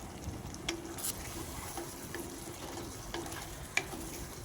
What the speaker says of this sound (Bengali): তো টক দইটা দেওয়ার পর আমি ভালো করে নেড়ে চেড়ে নিয়েছি।